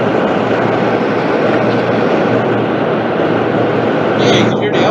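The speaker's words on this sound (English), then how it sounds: "This is what the city sounds like." City street ambience at night, a dense continuous roar of distant traffic and urban hum, loud and steady, with a brief brighter rattle near the end.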